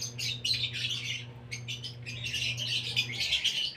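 A hand-fed baby parrot, about ten days old, gives rapid, insistent begging chirps and squawks in close, repeated bursts, over a low steady hum.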